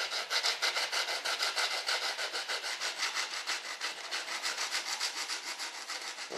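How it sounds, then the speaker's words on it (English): Rhythmic back-and-forth rasping of sandpaper stripping paint off a foam F-35 model airplane, a steady, close scrubbing stroke repeated throughout without any talk. "What I want to do is sand this paint off because there ain't no kind of glue sticks to paint."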